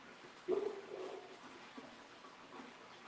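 A dog barks once or twice close by, a short burst near the start followed by quieter faint sounds, with a doorbell situation and no talking.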